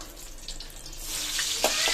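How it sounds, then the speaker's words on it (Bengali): Eggplant fries in a pan in a home kitchen, a hissing sizzle that swells louder in the second half with a couple of sharp crackles, with no talking. "এখন হচ্ছে বেগুন ভাজা হচ্ছে"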